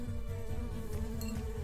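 Bees buzz in the video game Secrets of Grindea, a low, steady droning hum that runs unbroken and fairly faint, with no talk over it.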